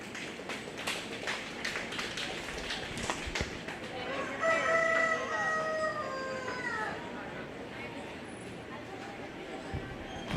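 Rooster crowing at a 4-H and FFA county fair poultry show, one drawn-out crow rising and falling mid-stretch, moderately near, amid hall clatter and background voices.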